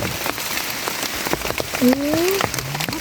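Steady rain falls on a forest floor during mushroom foraging, a dense hiss of drops spattering leaves and ground throughout, with a brief bird-like tonal call near the middle.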